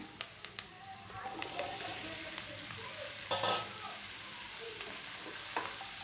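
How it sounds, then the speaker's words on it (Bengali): Chopped okra sizzles and fries in a pan while a spoon stirs it through with turmeric and spices, a steady hiss with scattered scraping clicks near at hand. "এখন আগে থেকে কেটে রাখা ঢেঁড়সগুলো দিয়ে দিচ্ছি এখানে।"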